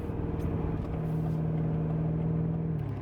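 A 2018 BMW M5 driving fast, its engine a steady low rumble with a slowly rising tone from inside the car, continuous and fairly loud with no talking.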